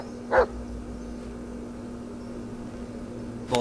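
A dog gives two short barks, one near the start and another at the end, over a steady background hum with low constant noise.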